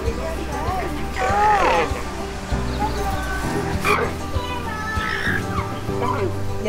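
A dog at a farm in the Margaret River area of Western Australia gives a few short barks and yips among other animal calls, mixed with people talking nearby.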